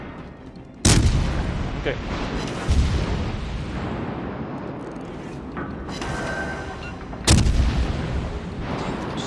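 Naval guns firing HE shells in World of Warships Legends: deep, heavy booming salvos, three loud blasts with long rumbling tails over a constant battle drone, while a player talks briefly.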